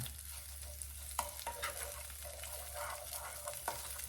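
Garlic and minced onions cook slowly in a pan, kept off direct heat, with a steady low sizzle and a few sharp utensil clicks and scrapes at close range, no talking.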